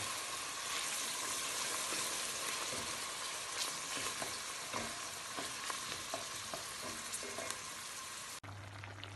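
Onions sizzle steadily in plenty of oil for a cabbage dish, with soft stirring clicks over the hiss; the frying cuts off abruptly near the end, leaving a low hum.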